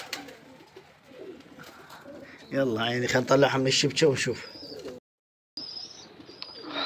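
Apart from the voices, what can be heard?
pigeons cooing in a net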